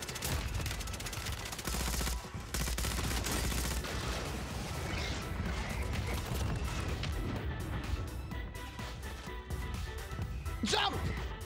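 Gunfire in a first-person shooter video game, a dense, loud stretch of rapid shots and crashing impacts with one sharp whoosh near the end, while a player talks over it.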